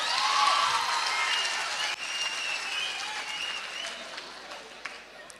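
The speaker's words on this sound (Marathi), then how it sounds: "एकदा जोरदार टाळ्या होऊन जाऊ द्या, जोरदार टाळ्या फक्त." Enthusiastic audience applause at a youth summit in Pune, a dense wash of clapping that swells loud at the start and then slowly fades over several seconds, with faint voices mixed in.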